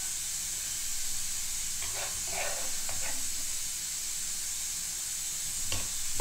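Pressure cooker softening pork intestines and pork belly, a steady close hiss and sizzle of steam running throughout with a few faint clinks over it.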